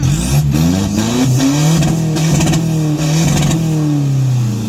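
An Isuzu 1.9 diesel pickup engine from 2020 revs up and down repeatedly, rising and falling in pitch, loud and close with no talking.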